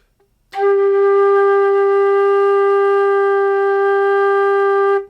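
A single sustained flute note, the G, played by a beginner teacher: steady tone with clear harmonics starting half a second in and held evenly, loud and alone, for about four and a half seconds before stopping.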